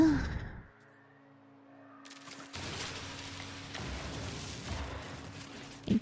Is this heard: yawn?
yes